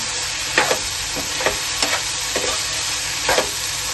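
Onions fry in a pan on the stove for mutter paneer, a steady close sizzle broken by several short scraping stirs of a spoon.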